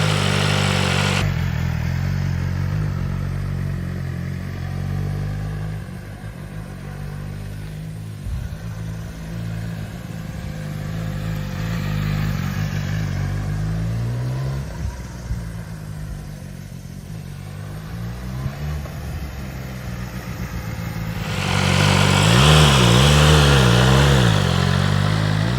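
A 1000cc sport motorcycle engine runs steadily at a loud, close idle, holding a deep rumble for a long stretch before revving harder near the end.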